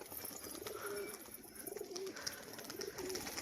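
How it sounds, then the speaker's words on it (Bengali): Male and female pigeons give soft, low, repeated cooing calls in a steady rhythm, close by and fairly quiet, with no voices. "এটা হচ্ছে নর পায়রা, এটা হচ্ছে মাদি পায়রাটা।"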